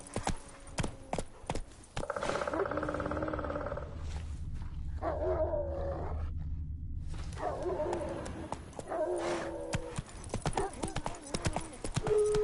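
Hooves of Roach, Geralt's horse in The Witcher 3, clop in quick bursts with a louder rumbling stretch in the middle, along with game effects and animal-like growls.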